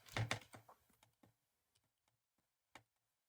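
Quiet typing on a computer keyboard, a quick cluster of keystrokes at the start that thins out into a few sparse, soft taps at close range in an otherwise silent room.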